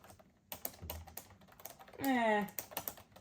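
Uneven clicking keystrokes on the somewhat mushy keyboard of a new-old-stock 1996 laptop, close and fairly quiet, briefly interrupted midway by a short hummed vocal tone.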